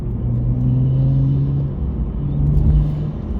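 A 2015 Subaru WRX or 2015 BMW 335i engine, both Stage 2 tuned, hums steadily with a low rumble and a faint airy intake whistle and whoosh riding on top, close and continuous.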